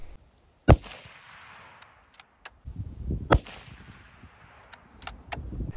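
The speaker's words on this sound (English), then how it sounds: "swap the blocks, and go back for shots 2 and 3." Two sharp .30-06 rifle reports, Norma Whitetail 150-grain loads fired into ballistics gel blocks, crack about three seconds apart, each with a short outdoor tail, amid faint wind and handling noise.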